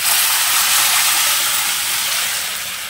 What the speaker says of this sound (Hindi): अब मैं ये कुकर में घोटे हुए अरबी के पत्ते कढ़ाई में डालने जा रही हूँ